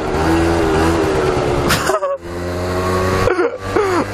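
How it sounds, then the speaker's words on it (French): A passing car brakes in street traffic, recorded from a moving scooter: a brief, sharp burst of braking noise cuts through loud engine and wind rumble, followed by another short scrape a moment later. "T'as pas entendu le bruit, c'est la voiture là. Elle a freiné mon gars."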